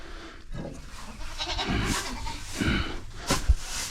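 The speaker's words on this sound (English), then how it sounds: "come on, get these goats some hay" Goats in a barn bleat in several short, wavering calls spread across a few seconds, fairly close, with faint rustling and bumps between the cries.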